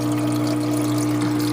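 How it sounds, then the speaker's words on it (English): A protein skimmer in a home reef aquarium runs with a constant loud hum and fizzing, bubbling water, a steady drone with no breaks and no voices. "And then I have what's called a protein skimmer, and that is right there."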